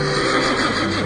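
A horse neighs in a documentary sound effect, a loud, sustained whinny filling about a second with no talking.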